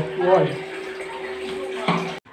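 Water is stirred with dishwashing soap in a container for house cleaning. It gives a short, close sloshing and splashing with a steady hum beneath, and a voice speaks briefly over it.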